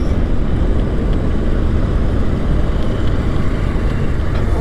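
A motorbike rides along a road, its engine and wind rush forming a steady, loud, broadband roar close to the microphone throughout, with no talking.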